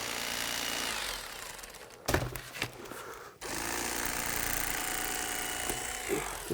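Foam lateral supports on a Ride Custom Back RCB200 seat back are trimmed through tape, giving a loud, steady buzzing cut that breaks off briefly in the middle before resuming.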